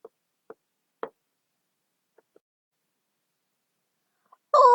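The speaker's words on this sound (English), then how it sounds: "the wicked wolf went straight off to Grandmother's cottage and knocked softly on the door" Three soft, separate knocks on a cottage door, then two fainter taps, are heard in near silence, and a voice starts at the very end. It is a storytelling of the wolf knocking at Grandmother's cottage.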